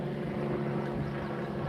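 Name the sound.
IU Health medical care flight helicopter flying overhead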